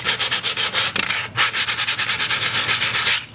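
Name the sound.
sanding putty with sandpaper on shiplap wall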